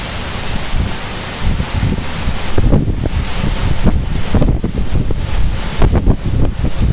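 Strong gusts from storm Kirk at Clermont-Ferrand, France, roar and buffet the microphone in a dense, uneven rush that rises and falls for several seconds, loud and close, with rustling underneath and no talk.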